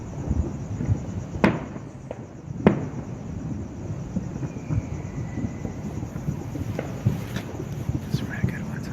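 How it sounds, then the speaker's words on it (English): Fourth of July fireworks bursting at a distance near Angeles Crest Highway, a few sharp scattered bangs over a murmuring background of wind and faint crowd noise. "I just want to see if we can actually catch a whole bunch of these like explosions and stuff."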